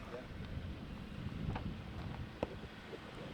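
Wind buffets a microphone outdoors, with steady low rumbling gusts and a sharp bump or two, continuous and fairly close throughout.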